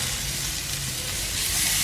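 A green chile hamburger patty sizzles on a grill just after being flipped, giving a steady, close, fairly loud hiss with no talking.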